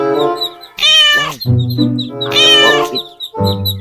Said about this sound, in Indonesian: Ada kucing, teman-teman.